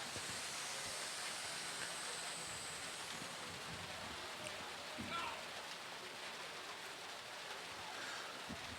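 Steady rain pours down at an outdoor paintball tournament, a dense continuous hiss that holds evenly throughout with no clear break, while faint voices carry in the distance.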